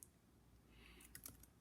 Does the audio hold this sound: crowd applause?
no